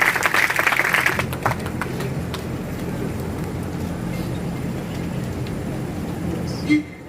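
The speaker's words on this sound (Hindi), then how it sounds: "बेहतरीन तालियों से ये गूंज जाना चाहिए शामियाना।" Applause from an audience under a tent at a farewell program for a professor at Maulana Azad University in Jodhpur, strongest at the start and then settling into a steady, dense crowd wash that carries on to the end.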